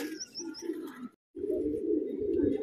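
Pigeons coo in a low, close chorus, broken by a short silent gap, with a few higher chirps early on and soft flutters of birds landing.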